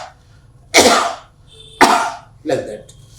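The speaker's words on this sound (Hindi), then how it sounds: "फिर थोड़ी सी खांसी भी कीजिए" Three short, forceful coughs from one person, close and loud, spaced about a second apart, as part of a demonstration of coughing into a tissue for an RT-PCR self-sampling test.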